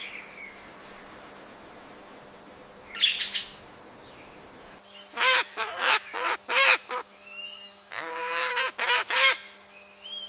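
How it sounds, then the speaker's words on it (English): A pet parrot gives a series of loud, harsh honking calls in quick bursts, with a few squawks earlier and a faint high chirp at the start, close and otherwise alone. "Meet the amazing pet parrot."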